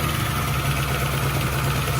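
A 4-cylinder car engine idles roughly after a spark plug change, a steady low throbbing hum with vibration, continuous and close.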